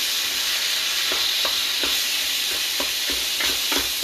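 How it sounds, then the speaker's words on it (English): Half beef and half pork mince browns in a hot pan with a loud, constant sizzling hiss, broken by occasional soft scrapes and ticks as it is stirred. "You really want that pan nice and hot so that it will fry for you."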